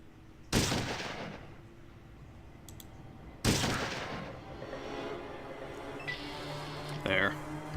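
Two loud shotgun blasts in the game Fallout 1 boom out a few seconds apart, each with a decaying tail, followed by faint clicks and mechanical reload sounds.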